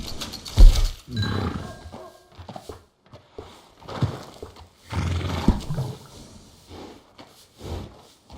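A horse in Red Dead Redemption 2 whinnies and snorts in several loud bursts separated by short pauses, close up with no talk.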